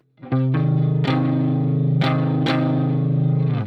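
Heavily effected electric guitar strums a held minor-third chord several times in an uneven rhythm, each strike ringing out full and close.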